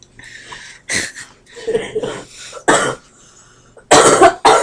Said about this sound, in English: So that loud coughing you hear is my girlfriend